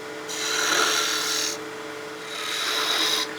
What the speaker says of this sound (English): So we'll go to our 3/8 spindle gouge. We're just going to cove this section out.